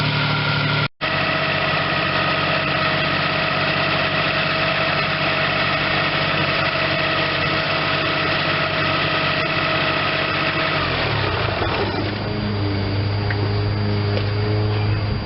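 A 1992 Geo Metro LSi with a 1.0L three-cylinder engine runs at a high, steady idle, a constant close-up drone that shifts in tone partway through, with no talking.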